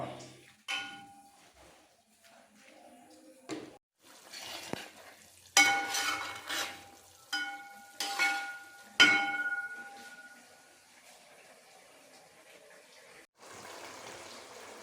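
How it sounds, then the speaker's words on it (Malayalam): Bitter gourd curry simmers in a pan with a quiet bubbling undertone, broken by several separate scraping stirs and clinks of a spoon against the pan, fairly faint and close with no talking. "പിന്നെ തിളച്ച് വരട്ടെ കേട്ടോ"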